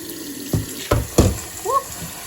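Very hot water splashes and pours into a pot while soaking rice for Liberian jollof, with a few sharp sloshes and clinks close by.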